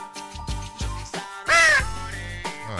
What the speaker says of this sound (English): that's a loud crow